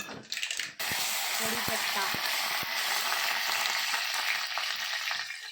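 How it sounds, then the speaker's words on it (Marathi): Cumin and mustard seeds sizzle in hot oil for a summer buttermilk kadhi, a loud steady hiss with a few clinks near the start, close and continuous. "तेलात जिरे मोहरी टाका"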